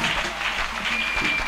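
A church congregation claps and cheers during a worship service, a dense, steady wash of applause filling the room for a moment with no voice on top.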